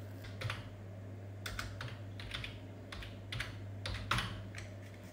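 Keys clatter on a computer keyboard as a name is typed in, a run of quick, light, close taps with short pauses over a faint steady hum.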